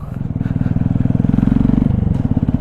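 A Honda Grom motorcycle engine runs while being ridden through the gears, producing a close, loud, rhythmic low thrum with a steady pulse. The pitch shifts briefly near the end, like a gear change.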